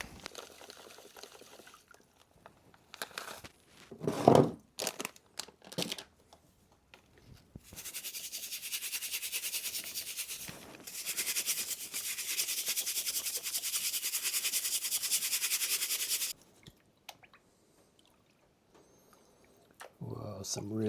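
Wet gold paydirt sieved through a classifier, a steady loud rushing pour and trickle of water and fine material for several seconds, with intermittent splashes and scraping before and after.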